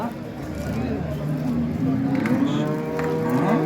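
A cow at a busy cattle market gives a long, drawn-out moo close by, with a second lowing call following. A murmur of crowd voices and market bustle runs underneath.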